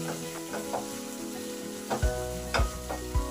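Spice paste for rui posto, rohu fish in poppy seed sauce, sizzles in a pan over low to medium heat. A continuous crackle runs under several sharp knocks and scrapes from a spatula stirring it.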